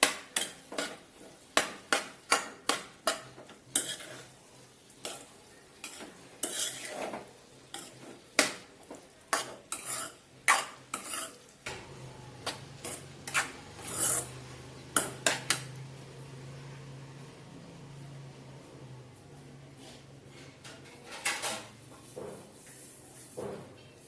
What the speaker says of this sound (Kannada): ಇವಾಗ ಎಲ್ಲದಕ್ಕೂ ಚಂದಾಗಿ ಮಿಕ್ಸ್ ಮಾಡ್ಕೋಬೇಕು